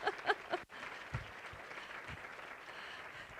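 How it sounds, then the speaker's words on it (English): An audience of teachers, principals, coaches and superintendents applauds in a soft, fairly distant patter of clapping that follows a few sharp tones and carries on steadily. "stand for a rousing round of applause"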